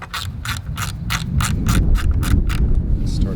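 A 5/32 Allen wrench tightens a button head bolt on the side plate of a T-Sport fairing kit for a Harley, giving a steady series of about a dozen sharp ratcheting clicks over a low background rumble.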